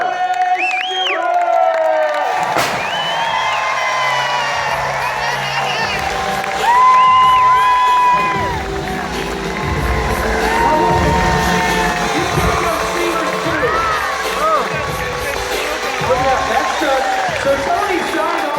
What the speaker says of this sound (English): Big round of applause. Stand up, get loud about this.